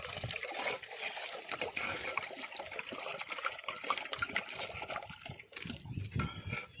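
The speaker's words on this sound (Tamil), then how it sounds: "ஒரு 10 டம்ளருக்கு அரிசி தண்ணி ரெடி பண்ண நான் ஒரு கலரில் விட்றேன்." Water pours and trickles into a pot to cook rice for a village-style Tamil mixed vegetable rice dish outdoors. The splashing is continuous and uneven, fairly faint and close, with some fluctuation as the flow changes.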